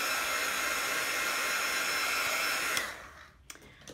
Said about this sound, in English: I'm going to just do a quick touch with my heat gun just to make sure that's nice and dry.